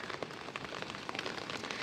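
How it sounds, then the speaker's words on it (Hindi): Steady monsoon rain falls continuously on adenium plants, a dense patter of drops close by with no pauses. "बारिश है कंटिन्यू, तो हमको एक एक पत्ती को निकाल देना है"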